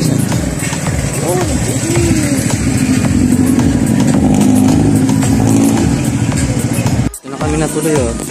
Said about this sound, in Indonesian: Yung motor niya.